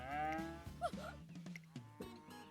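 A cow moos loudly in the Umamusume video game, one long low bellowing call with a rising, wavering tail, heard alone over a faint farm backdrop.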